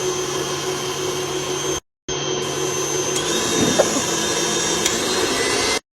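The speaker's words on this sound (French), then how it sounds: "Ensuite, je vais venir mixer le tout." An electric mixer blends brown sugar and other baking ingredients with a close, steady whirring drone. It cuts out briefly near the start, then runs on evenly before stopping.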